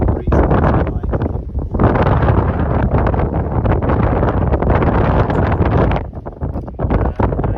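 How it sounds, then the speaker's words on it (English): Gusty wind buffets a microphone outdoors beside a beehive, a loud, continuous roar that dips briefly in a few short lulls. "it was really windy, so sorry about the sound."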